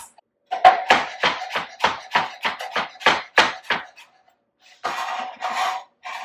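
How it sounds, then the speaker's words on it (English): A kitchen knife chops fresh parsley on a cutting board in a quick run of about a dozen crisp, close taps, then a pause and a few softer scraping strokes. "And then the parsley, and run your knife through a couple times."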